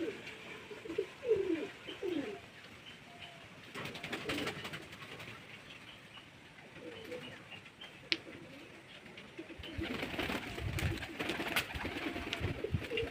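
Pigeons coo and flutter as they feed on homemade grain by a house rooftop, soft repeated coos rising and falling over steady outdoor background noise.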